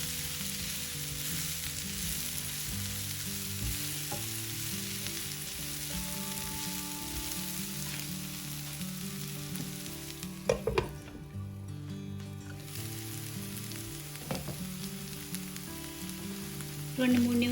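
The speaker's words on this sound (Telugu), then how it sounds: "మొత్తం కూడా ఒకసారి కలుపుకుని మూత పెట్టి 2-3 నిమిషాలు బాగా ఫ్రై అవ్వనివ్వాలి" Boiled raw banana pieces fry in a covered pan with green chili, a soft, steady sizzle that continues throughout, with a few clinks and stirring sounds near the end.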